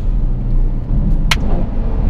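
A Novitec N-Largo Ferrari F12 supercar with an aftermarket exhaust system gives a loud, steady, deep rumbling roar throughout, heard close while driving at road speed.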